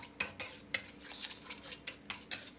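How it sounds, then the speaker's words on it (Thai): A utensil stir-fries squid in a salted-egg and chili paste sauce in a pan, making quick, irregular scraping and clinking strokes with a faint sizzle beneath. The strokes are close and moderately loud, and no voices are heard. "แล้วก็ให้เราผัดให้เข้ากันนะครับผัดให้น้ำซอสของเราแตกกลิ่นหอมนะครับ"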